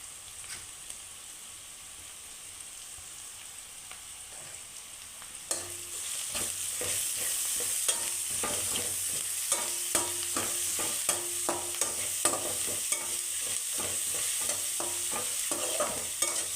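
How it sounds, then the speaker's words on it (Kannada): Grated carrot fries in a pan for lemon chitranna, a soft sizzle that turns louder and steadier partway through, overlaid by rapid repeated scraping stirs of a spoon against the pan, with no voices. "ಫ್ರೈ ಮಾಡ್ಕೊಳ್ಳೋಣ"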